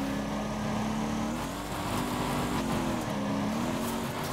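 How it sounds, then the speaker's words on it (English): A car engine in the racing game Drag drones steadily as the driver lifts off the throttle, its pitch sagging and recovering a couple of times under a constant mid-level roar. "I can't get over how good that sounds getting off gas"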